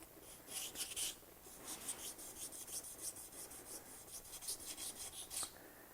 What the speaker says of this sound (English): I'm going to start out here with using this stone to get most of the crud off it and get it shaped